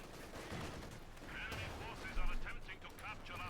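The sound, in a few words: gunfire in Company of Heroes 2 video game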